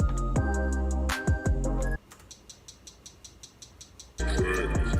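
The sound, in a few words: hi-hat made from recorded ice cracking sound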